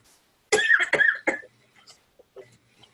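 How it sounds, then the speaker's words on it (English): A wet, phlegmy cough in three or four close, loud bursts, followed by fainter throat noises and breathing in a quiet room. "It's a wet cough."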